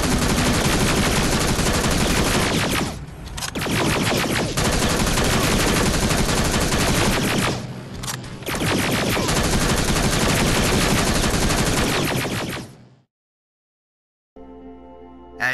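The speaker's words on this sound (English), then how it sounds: "Same thing with the Uzi Millimeter, a submachine gun." An Uzi submachine gun in the Terminator Resistance video game fires long, loud, sustained automatic bursts. The bursts run continuously for about twelve seconds with two brief pauses, then the firing cuts off into silence and quieter game sound follows.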